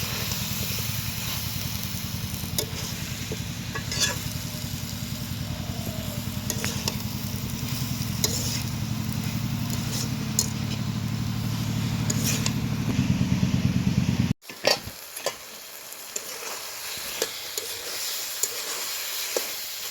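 Taro leaves with hilsa fish are stirred in a pan over a dense, loud sizzle with a low rumbling roar and scraping strokes, then the sound abruptly drops to a quieter, crackling sizzle with sporadic stirring taps.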